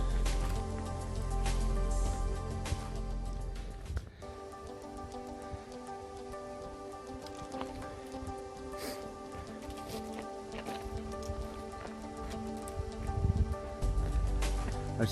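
Light rain shower falling during a mountain hike on the GR20 trail in Corsica, a steady close patter of drops hitting nearby surfaces, heavier at the start and continuing evenly throughout with no talk.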